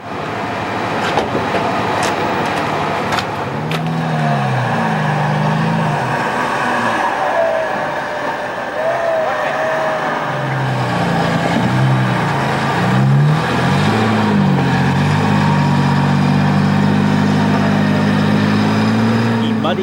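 A Toyota Hilux Surf grinds along an off-road course in New Zealand, its engine droning steadily with rising and falling revs as it climbs and lurches, loud and close throughout.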